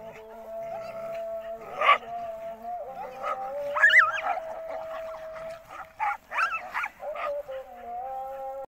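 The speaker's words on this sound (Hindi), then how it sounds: "आपने कुत्तों की लड़ाई देखी है" Several dogs in a scuffle, yipping, whimpering, howling and giving occasional barks in short, agitated bursts at close range, with a few loud peaks and only brief gaps between outbursts.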